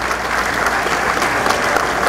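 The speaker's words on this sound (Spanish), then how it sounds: "Un fuerte aplauso para la ingeniera Carmen Roque." Loud, dense applause from a crowd at an engineers' membership ceremony, continuous and steady clapping filling the whole moment without pause.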